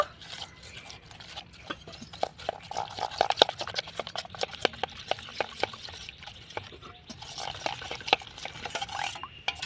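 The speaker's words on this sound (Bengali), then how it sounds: "অল্প জল দিয়ে আমি একটা ব্যাটার তৈরি করে নেব" A spoon stirs a thin batter of flour, red chili powder and water in a bowl, making close wet, slapping clicks in a quick, uneven rhythm.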